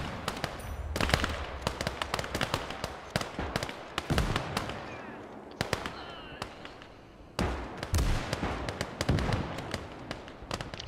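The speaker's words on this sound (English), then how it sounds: "T-35 and the KV-2 are both shelling for the point." Tank cannons from T-35 and KV-2 tanks in the WWII strategy game Gates of Hell: Ostfront pound away in rapid, overlapping blasts and crackling gunfire, loud and dense throughout with brief lulls between volleys.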